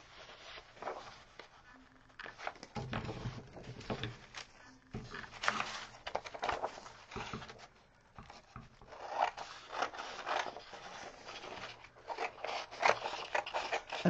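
Scissors snipping through paper while shaping a larger layer for a peony paper flower, a close run of repeated crisp cuts and rustling with brief pauses between strokes.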